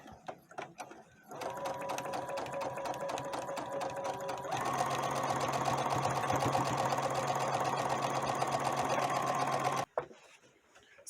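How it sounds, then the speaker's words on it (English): A sewing machine runs a straight stitch through piping on travel-bag fabric, starting after brief handling noises and then humming steadily and loudly at a quickening pace before stopping abruptly. "I'm going to line this up with the edge, and I'm just going to sew a regular straight stitch."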